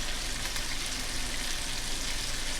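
Bluegill fish pieces fry in hot oil, giving a dense, steady crackling sizzle that stays close and constant throughout with no voices.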